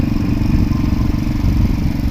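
A walk-behind tractor cultivator working a cassava furrow field runs steadily nearby, a loud, low, rumbling single-cylinder engine drone with a rough clattering pulse and no talking.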